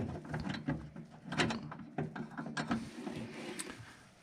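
Fasteners on a Valkyrie Engineering lithium battery kit being tightened by hand, giving a run of close, uneven metallic clicks, ratcheting turns and small clunks over about four seconds, with no talking.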